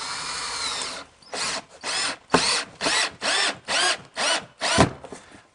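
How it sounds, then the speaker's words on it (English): A power drill bores a hole through an RV bunk bed in about eight short, loud bursts, each whining for roughly half a second with brief pauses between. "drilled a hole through the bunk bed, ran the cable down through"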